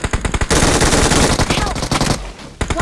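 Dense bursts of automatic gunfire from VSS and UMP weapons in the BGMI (PUBG Mobile) video game, a loud rapid rattle of shots that continues for about two seconds between a few sharper single cracks.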